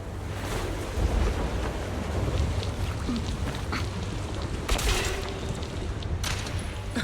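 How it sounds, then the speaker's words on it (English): Wind blows across an open video game scene in a steady broadband rush with gusty swells, and a brighter surge near the end. No voices are heard. "The wind. It's shifting."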